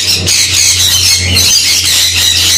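Parrots at an exotic bird farm in Kolkata, among them conures, cockatiels and lovebirds, give loud, shrill squawks close by in quick repeated bursts over a low steady hum.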